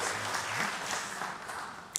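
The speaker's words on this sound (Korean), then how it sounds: "박수로 환영해 주시기 바랍니다." Audience applause fills a church sanctuary during a Chuseok memorial worship service at Andong Church, welcoming a guest pastor; steady, dense clapping runs throughout at moderate volume.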